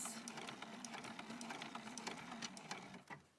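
A sewing machine runs steadily while reverse stitching along a purse strap, its fast even needle chatter close and continuous, then slowing and stopping at the end.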